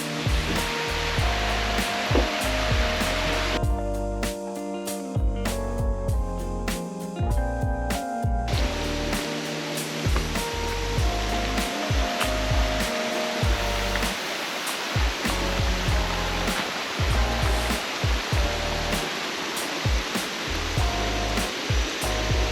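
Huay Keaw waterfall in Chiang Mai pours in a steady, loud broadband roar of rushing water, continuous throughout with brief shifts as the listener approaches the falls on a hillside trail.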